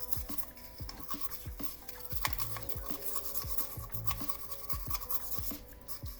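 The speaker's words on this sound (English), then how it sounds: "I'm just going to take my little wire brush and just kind of give that a little light scrubbing." A small wire brush scrubs a tractor starter part to clear oil and grease, giving quiet, rhythmic back-and-forth scratching strokes close up, with no speech.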